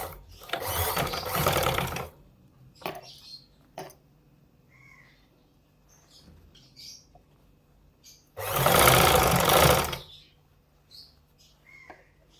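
A sewing machine stitches a child's frock, attaching a sleeve along a fitting seam, in two loud bursts of rapid motor whir separated by quieter pauses with faint clicks and handling noises.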